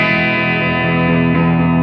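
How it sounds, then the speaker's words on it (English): Electric guitar played through a Marshall JCM amp on its clean setting, a sustained, loud chord ringing out with rich overtones and a slight effect-like shimmer, with no talking. "Now let's hear the JCM at 100 on its clean setting, or just all dip switches basically off."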